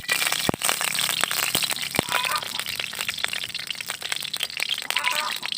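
Mustard seeds spluttering and popping in hot sesame oil in a pan, a dense crackle of sharp pops with a few louder snaps over a steady sizzle, close and fairly loud.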